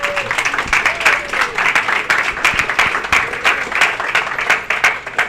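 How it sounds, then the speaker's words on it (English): An audience at a motorsport radio show applauds as a guest is welcomed, a loud, sustained burst of clapping with a few sharper claps and faint voices mixed in. "She's not even clapping."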